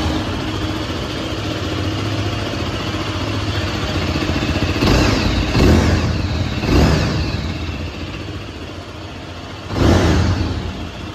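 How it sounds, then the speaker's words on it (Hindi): A single-cylinder Zontes 350 R motorcycle engine runs at a steady idle, loud and close, with several short throttle blips rising out of the even thrum and no talk over it. "सो जो साउंड है वो सिंगल सिलेंडर के हिसाब से जो है काफ़ी बढ़िया निकालती है बाइक।"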